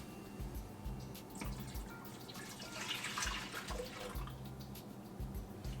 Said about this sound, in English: Go ahead and add the milk now.